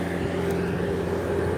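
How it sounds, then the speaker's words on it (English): A steady low engine drone with a rumbling hum, continuous and fairly close, like a tractor running without pause. "Got this dude with a tractor."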